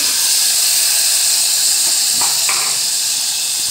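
Water is poured into a hot pan of fried chicken and rice for a baby's chicken soup, setting off a loud, continuous close steam hiss that holds throughout.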